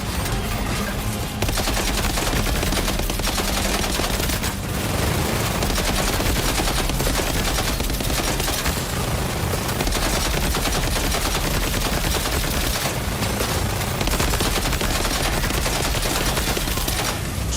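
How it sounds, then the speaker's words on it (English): Assault rifle fire in Death Stranding 2 rattles out in dense, sustained bursts for the whole stretch, loud and close, with brief gaps and heavy low-end impacts. "How about this assault rifle?"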